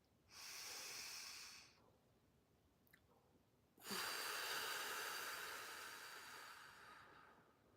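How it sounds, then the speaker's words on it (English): Slow, deep breathing during a guided meditation: a long airy inhale lasting over a second, a pause, then a longer, louder breath that fades gradually. The breaths are close and soft, with no talking. "Let's breathe one more time."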